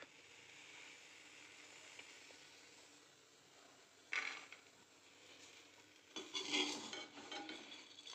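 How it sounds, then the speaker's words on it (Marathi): A slotted spoon scrapes and scoops salted peanuts out of hot salt in a pan, giving faint clinking and rustling scrapes with two brief louder bursts near the end. "असे झाऱ्याने शेंगदाणे काढून घ्यायचेत."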